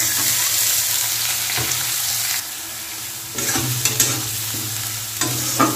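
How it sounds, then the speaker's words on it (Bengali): Chopped onion with grated ginger and garlic fries in a pan with bay leaf, a loud continuous sizzle broken by repeated scraping and clinking strokes of a spatula stirring close up. "তো এটা এখন আমি একটু লাল লাল করে ভেজে নেব।"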